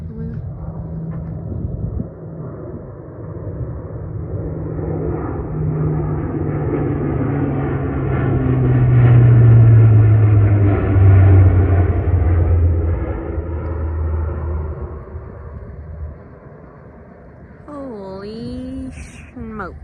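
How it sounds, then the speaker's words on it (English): A fixed-wing airplane passes behind mountains near an off-grid homestead, a steady low engine rumble that swells to a peak and slowly fades, with a person briefly speaking near the end. "that plane is literally going right here behind these mountains"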